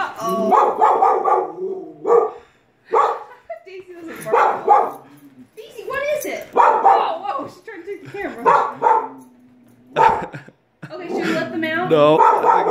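A puppy barks at a snowman outdoors in the snow, giving repeated short yips and barks between bursts of a person talking excitedly to it.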